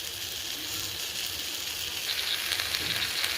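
Malabar spinach is added to a pan of frying shrimp and spices, bringing a loud continuous sizzle and crackle with faint stirring clicks near the end, heard up close with no speech.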